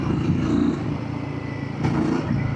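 A Royal Enfield Guerrilla 450 naked street motorcycle pulls steadily in fourth gear, its engine giving a continuous low throbbing drone close up with a slight swell near the end and no talk over it.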